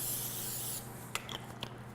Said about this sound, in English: I was supposed to spray it with Pam.